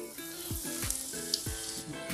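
Spices, including dried red chillies and black peppercorns, crackle and sizzle steadily in hot oil for a tempering, with a few pops and a soft stirring clink; no voices.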